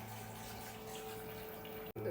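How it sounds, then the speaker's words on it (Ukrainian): An automatic sensor pet toilet flushing itself, water running steadily with a soft rushing and pump-like hum, quiet and close, ending with a brief click. "воно само змивається через 45 секунд"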